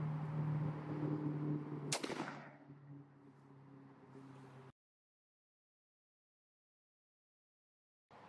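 A .410 shotgun, a CVA Scout with a Jebs XXFull choke, fires one Remington Premier TSS number 9 shot load at a turkey pattern target 20 yards off. A single sharp, loud report cuts through outdoor background noise, then fades into silence.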